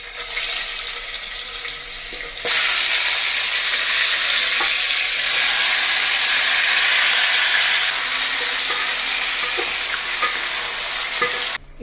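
Marinated chicken for dum biryani goes into a pot with the other ingredients and fries with a loud, steady sizzle that starts abruptly and continues, along with occasional stirring clinks and no talking.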